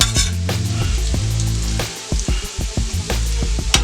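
Potatoes and mushrooms sizzle loudly on a hot steel griddle, a dense steady fry broken by sharp scraping clicks of a spatula moving the food around.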